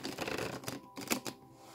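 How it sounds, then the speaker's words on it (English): A tarot card deck being shuffled up close, a few quick papery riffles and flutters in a short quiet burst. "Okay, Marie Doge, I'll shuffle this deck"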